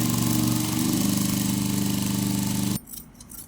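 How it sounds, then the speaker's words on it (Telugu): A sewing machine stitches cloth in a fast, steady mechanical rattle with a low humming motor for nearly three seconds, then stops abruptly, leaving faint handling noises. "ఇలా నేనైతే ఇంకొక స్టిచ్ వేస్తున్నా."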